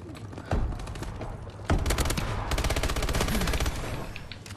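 Rapid automatic fire from an ASM1 gun in a video game, with a short burst followed by long sustained volleys of sharp, loud, closely spaced shots.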